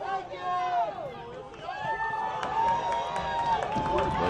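A sparse crowd at a college football game makes a loose, overlapping hubbub of scattered shouts and cheers from the stands, moderately distant, with voices carrying throughout.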